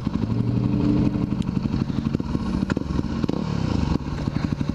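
Motorcycle ridden along a road toward a bike shop, its engine droning steadily up close with rhythmic low pulsing, clattering and wind buffeting, no voices.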